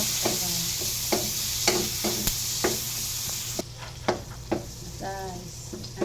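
Tomatoes and onions sizzle in a pan with browned garlic, a steady close hiss broken by sharp utensil clinks and scrapes as the mix is stirred.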